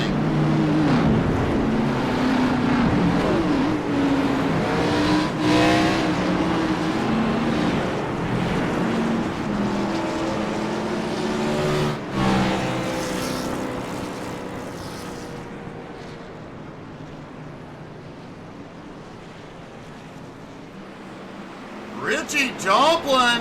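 A field of race cars idling and rolling on the grid behind the pace car at Indianapolis, a steady engine drone under a commentator's voice that slowly fades.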